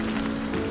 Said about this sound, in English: Raining a little bit, but a lot of protection from the trees above me